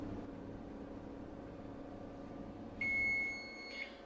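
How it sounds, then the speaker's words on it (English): A GE electric range oven's cooking timer gives a single steady electronic beep lasting about a second, a clear high tone over a low background hum near the end of the stretch. "once it gets to the 1 minute mark, then it'll go beep"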